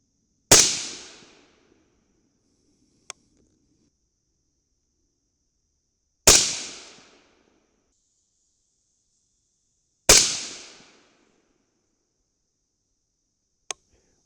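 Three loud, sharp rifle shots from a .223 loaded with bulk bullets over N140 powder ring out several seconds apart, each with a quick decaying tail, and faint clicks fall between them.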